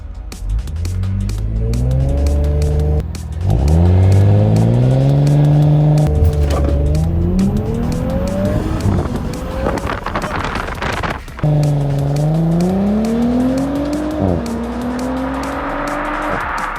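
A rebuilt Audi S5 launching hard after brake release, its engine roaring loudly up through repeated gear changes with rising pitch sweeps, brief dips between shifts, and sustained close, aggressive acceleration.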